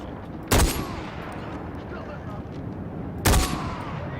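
Gunfire in the game Far Cry 4: two sharp, loud shots about three seconds apart, each with a short ringing tail, over a low background of game ambience and faint voices.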